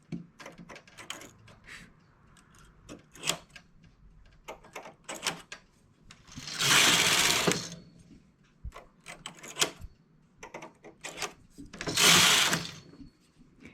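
A manual knitting machine set for jacquard works along a row, with rapid clattering and clicking as needles are handled and two longer swishing passes of the carriage sliding across the bed.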